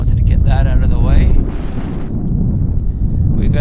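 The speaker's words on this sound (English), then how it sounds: "We've got another aircraft powering up for departure. You can hear the engines." Air Canada jet airliner engines spooling up for departure at Vancouver Airport, a loud broad roar with strong wind noise on the microphone, steady throughout with a voice talking over it.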